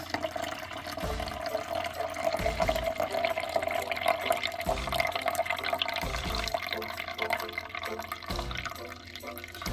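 Chayote squash juice pours out in a continuous splashing, gurgling stream with uneven bursts, close and moderately loud.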